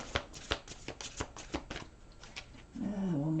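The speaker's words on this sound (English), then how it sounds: "One more shuffle." Tarot cards are shuffled by hand in a run of quick, close, crisp riffling slaps and flicks, followed by a brief rising whine at the end.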